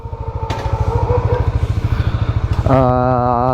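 A motor scooter idles and is ridden off, its engine putting out a steady low pulsing throb close by, then revving up to a higher, louder whine near the end, with talk around it.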